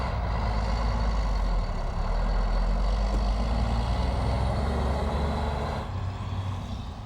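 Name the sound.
heavy garbage truck driving past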